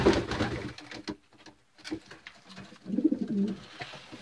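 Racing pigeons in an old bird loft, cooing in soft, low, throaty bursts with pauses between them. The sound is close and alone, with no talking.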